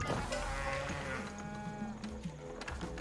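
Cattle from a ranch in a strategy video game give a long, clear low moo, followed by quieter game effects and soft clicks.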